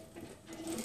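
Sewing machine stitching a jacket sleeve hem, a steady close mechanical whir with a faint rhythmic rattle running continuously through the short moment, no voices.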